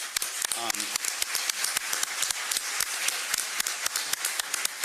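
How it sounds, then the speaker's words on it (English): A round of applause for honorees at Birmingham's State of the City address, sharp individual claps rising from a crowd in a hall, fairly close and rhythmic, with a brief voice heard near the start. "Let's give them a round of applause."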